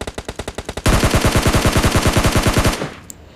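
Automatic gunfire in the video game PUBG Lite: a quick run of separate shots, then a dense rapid burst of loud, evenly spaced rounds for about two seconds before it stops abruptly.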